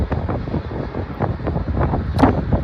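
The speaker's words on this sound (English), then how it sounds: "A little windy up there" Gusty wind buffets a microphone outside an airport control tower cab, producing continuous low rumbling bursts with fluctuating strength.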